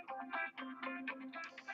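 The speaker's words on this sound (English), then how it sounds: "And I'm getting a phone call" A cell phone rings with an incoming call, repeating a bright electronic melody in short bursts, fairly close and clear with no talking over it.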